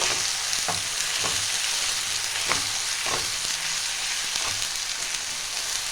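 Green chillies, garlic and ginger frying in a pan for a Bengali fish curry: a loud, dense, steady sizzle with occasional light stirring knocks.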